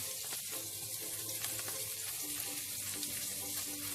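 Steady sizzling of salmon frying in a pan, a soft continuous crackle with occasional faint clinks, close by and without speech.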